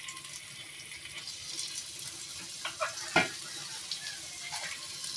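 Lote fish go into hot oil in a pan, giving a soft ongoing sizzle with a few sharp spatters and splash-like pops, fairly quiet and close, with no speech.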